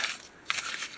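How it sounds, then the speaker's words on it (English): A paper printout is crumpled by hand in a few quick bursts of crinkling separated by a brief pause, close and fairly quiet, with no talk over it. "I gotta crumple it up."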